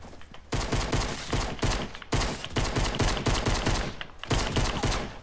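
Rapid automatic gunfire rattles out in long loud bursts from a gun in Fortnite, three sustained volleys separated by brief pauses, with no talking over it.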